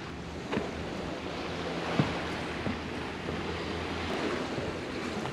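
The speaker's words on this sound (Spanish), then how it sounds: "díganme que no les gusta escuchar ese océano así" Calm ocean water lapping at a small pier in Old San Juan, Puerto Rico, a steady soft wash with light wind noise and a few faint knocks.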